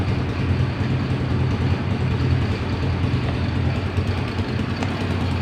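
A motorcycle engine idles steadily at about 1160 RPM during a check of its lighting system, giving a continuous low, even rumble close by with no speech.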